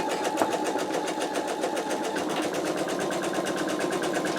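An embroidery machine stitches an in-the-hole wallet project, laying a placement line with a steady, rapid mechanical whirring and rhythmic needle pulsing throughout, close and continuous with no talk.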